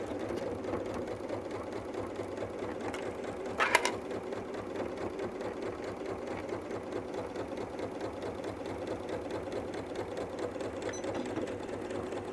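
A sewing machine runs steadily while stitching the seam of a Christmas stocking at centre needle, a continuous even whirr throughout with one brief sharper clatter partway through.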